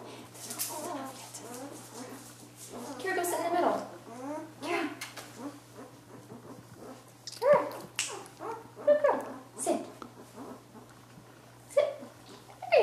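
Small Chinook puppies, about one week old, whimper, yip and squeak intermittently, fairly close, with soft high-pitched cries scattered over a low steady hum.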